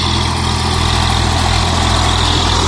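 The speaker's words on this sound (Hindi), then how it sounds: "क्या गजब शानदार ट्रैक्टर चलता हुआ खेतों में" A 1991 Swaraj 735 FE tractor with a replaced silencer runs in a field, its diesel engine droning loud and steady with a low, even rumble throughout.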